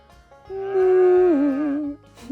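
One long, drawn-out moo from a cow, loud and close, rising then sliding lower before stopping, alone with no talking.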